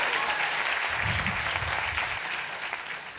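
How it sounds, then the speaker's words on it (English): An awards-show audience at the Glamour Women of the Year Awards applauds, a loud, dense wave of clapping that stays full through the clip and eases slightly toward the end, with brief low murmurs under it. "Let's give her a round of applause"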